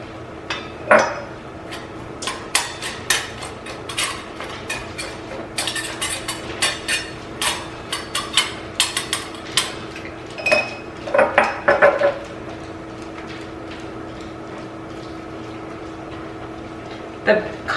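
Broth is ladled into glass jars with a long series of light clinks and knocks, some single and some in quick clusters, over a low background hum with brief speech.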